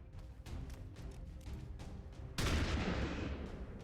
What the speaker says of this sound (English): Let's go for the shotgun.